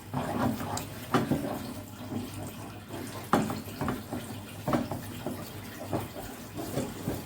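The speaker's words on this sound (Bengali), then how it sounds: "এখন বাকিটা একটু জল দিয়ে গুলে নেব। সামান্যই জল লাগবে, একটু জল দিয়ে পরিমাণ মতো ব্যাটারটা করে নেব।" Egg pitha batter is mixed with a little water, making soft, wet sloshing strokes that repeat in a slow, regular rhythm at close range, with no talking.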